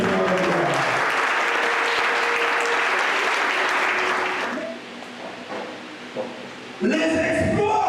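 Church congregation breaking into loud, sustained applause and acclaim, a dense wall of clapping and cheering that fades after several seconds, then a voice rises again.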